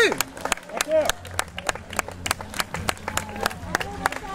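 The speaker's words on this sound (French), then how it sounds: "On applaudit." Spectators clapping at the finish of a youth minimes cycling race in Pons, with sharp scattered claps, crowd noise and shouts mixed with an announcer's voice over a loudspeaker.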